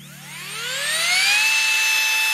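A Gesswein Power Hand rotary handpiece spins up to 55,000 RPM for feather carving, its high, close whine rising steadily in pitch over the first second and then holding a steady tone.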